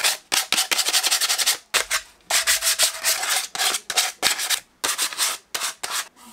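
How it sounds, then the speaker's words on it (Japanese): A toy water-gun blaster shell is sanded by hand with P180 sandpaper to expose silver, giving rapid, close rasping strokes in quick bursts with short pauses between them. "ちょっとだけちょっとヤスリをかけて金属出し銀を出してみようか。"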